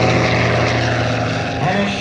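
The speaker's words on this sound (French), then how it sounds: "voici un avion emblématique qui a marqué l'histoire de l'aviation de transport militaire. Le Nord 2501 Nord Atlas." A Nord 2501 Noratlas military transport plane flies past at the 2025 Orléans air show with a loud, continuous droning propeller-engine roar that fills the whole moment, steady and close.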